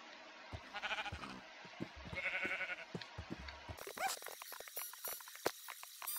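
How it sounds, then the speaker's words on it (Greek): Sheep on a farm bleat repeatedly, several wavering calls close by amid rustling and scattered clicks and knocks, with a brighter burst of bleats toward the end. "Λοιπόν, βρήκαμε πρόβατα."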